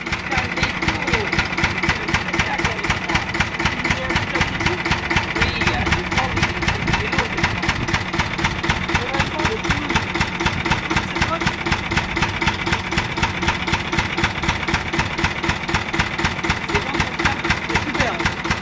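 An old engine idles steadily at a French agricultural and automobile heritage museum, a loud, even mechanical pulse running throughout with faint voices in the background.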